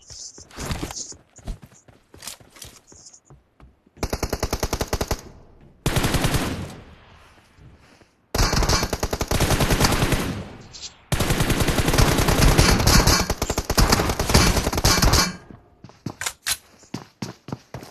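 Video game gunfire crackles in rapid bursts, automatic volleys separated by short pauses and single shots, loud and close throughout.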